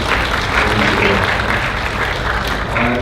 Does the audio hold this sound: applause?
yes